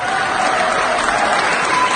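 Standing audience in an Oxford University hall applauding Rahat Fateh Ali Khan's arrival, a dense, steady wash of clapping from a large crowd that fills the whole stretch without a break.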